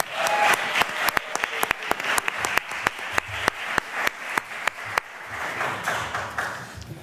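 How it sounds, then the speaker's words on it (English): An audience at a US Cyber Games draft day award event claps for several seconds, a dense, steady round of applause with sharp individual claps standing out close by, easing off toward the end. "Let's give him a round of applause."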